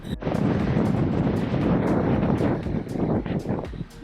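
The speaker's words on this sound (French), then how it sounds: "Et il y a un vent." Strong, gusting wind during a storm in Wyoming buffets the microphone in a loud, continuous roar, with rustling bursts throughout.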